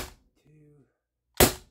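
A single sharp crack from a Umarex HDP 50 compact air pistol, loud and close, comes after a brief faint voiced sound and the tail of an earlier shot.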